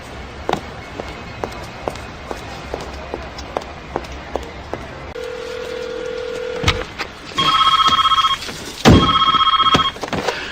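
A telephone rings in two loud electronic bursts after footsteps and a few clicks and taps, near and clear, with no talking.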